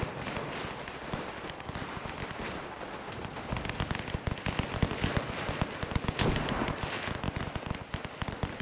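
Gunfire rattles through a WW1 battle in the game Between Empires: dense, rapid cracks and pops pile up into a continuous clatter of volleys and machine-gun bursts that grows heavier in the second half.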